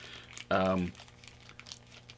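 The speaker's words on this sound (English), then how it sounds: "let's put your little freaky head back in the plastic bag" A plastic bag crinkles loudly for a brief moment as a 1/6 scale Commander Cody action figure is slipped back inside, with faint rustling and handling noises around it.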